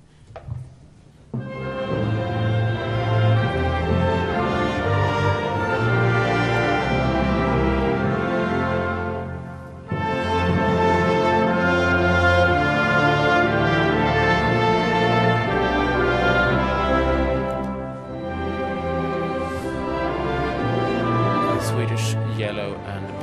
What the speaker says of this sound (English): Now we will hear the Swedish national anthem.